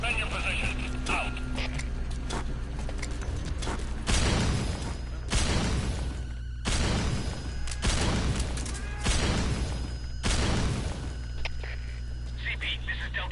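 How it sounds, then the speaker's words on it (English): Explosions in Metal Gear Solid V game action, several loud broadband bursts rising out of a steady low hum, each followed by a short decay, arriving at irregular intervals in the clip's latter half with no talk over them. "Heard an explosion."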